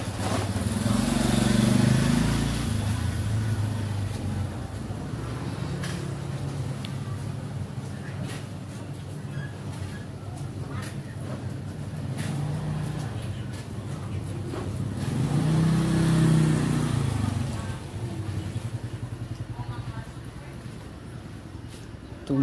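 A fuel-injected motorcycle engine idling steadily in a workshop during an injector cleaning service, a continuous low rumble that swells twice as the engine is revved, with people talking occasionally over it.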